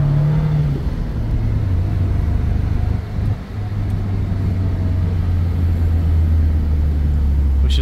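A 1990 Daihatsu Rocky SX driving along a road, its engine a steady close rumble that dips briefly, heard from inside the vehicle with no talking.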